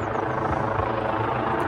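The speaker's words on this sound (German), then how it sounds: "Ja, es ist sehr, sehr laut, der Hubschrauber." Helicopter flying overhead during a Fridays for Future climate strike in Hamburg, a loud steady rotor thrum and engine roar that fills the whole clip.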